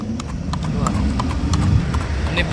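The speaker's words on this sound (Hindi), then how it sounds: "जहाँ पे आप दोस्तों देख सकते हो डिस्प्ले में जो घोड़ा दिख रहा है" Horse hooves clip-clop in a quick, steady rhythm close by at a horse race in Bhuj, Kutch, with someone talking continuously over the hoofbeats.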